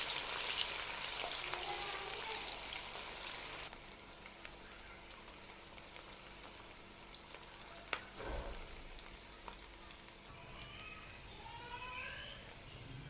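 Sliced onions fry in ghee in a kadai for chana pulao, giving a loud hissing sizzle that drops to a quieter, even crackle after a few seconds, with occasional utensil clinks.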